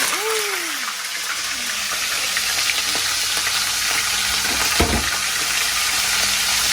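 Kangkong (water spinach) fries in hot, spattering cooking oil, a steady loud sizzle with crackles and a few louder pops, close up, as a person speaks briefly nearby.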